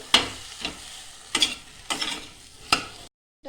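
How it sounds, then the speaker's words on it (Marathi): Bitter gourd sautéing in a pan, with a low background sizzle broken by four or five sharp spatula scrapes and clacks at uneven intervals, close by, then a sudden cutoff into silence. "आपल्याला कारलं चांगलं परतून घ्यायचं"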